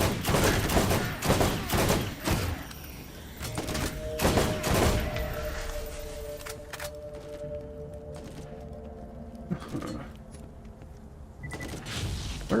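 Sharp gunshots from the Borderlands shooter crack in a quick series at first, then thin out to sporadic shots over a low droning hum, with a few more bursts toward the end.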